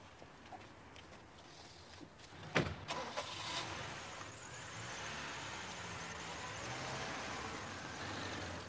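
A car pulls away at night after a brief goodbye, a sharp door-like thump near the start followed by a steady engine rumble and road noise that holds at moderate level without fading much.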